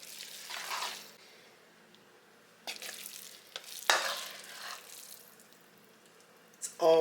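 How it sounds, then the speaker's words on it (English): Ramen stirred with sauce, chicken and vegetables in a pan, with intermittent scraping and tossing bursts over a soft sizzle, separated by quiet pauses. "Now we're going to get our ramen all mixed up in this sauce with the chicken and veggies."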